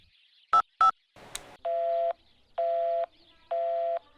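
A telephone keypad dials out in clear electronic tone beeps: two short blips, a brief noisy burst, then three longer evenly spaced tones, sounding alone and close with no talking.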